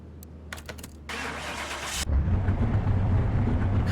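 A junkyard car's engine cranks briefly and then catches, settling into a close, steady rumbling idle with no one talking.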